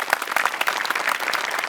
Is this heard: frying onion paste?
no